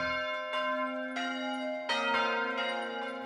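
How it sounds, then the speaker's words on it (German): Church bells in Taizé ringing the call to prayer, several resonant metallic strikes with long sustained hum, loud and clear with no talking. "Dreimal am Tag rufen die Glocken zum Gebet."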